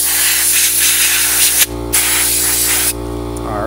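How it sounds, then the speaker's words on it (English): Canned or compressed air sprays in loud, steady hissing bursts to blow dust off a Neo Geo Pocket Color screen during a glass cover replacement, with two brief pauses between blasts. "you can use canned air if you don't have access to a full air compressor"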